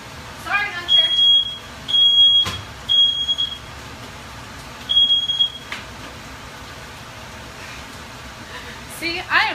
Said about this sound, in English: I set off the smoke detector while cooking.